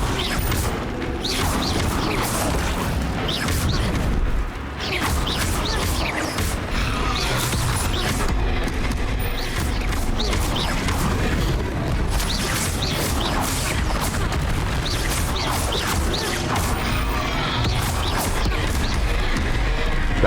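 Confringo fire spell blasts in Hogwarts Legacy, a continuous loud barrage of crashing impacts, rumbling booms and clattering debris from combat, with no break across the whole stretch.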